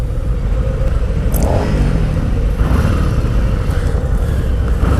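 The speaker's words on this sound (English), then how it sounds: "The stock Harley exhaust" A Harley-Davidson Street Bob on its stock exhaust accelerates out of a corner with a steady low rumble heard from the rider's position, mixed with wind noise and no voices.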